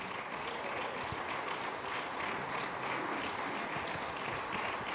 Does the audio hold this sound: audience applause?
yes